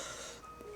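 Near silence, then a single loud, sharp cough bursts out close to the microphone at the very end.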